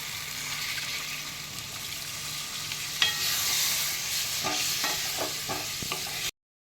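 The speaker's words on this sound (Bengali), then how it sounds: "এবার ভালো করে নেড়ে নেব" Masala paste, with warm water just added, is stirred in a pan for potato dum, giving a continuous hissing sizzle, a few sharp scrapes and taps toward the end, and no talk.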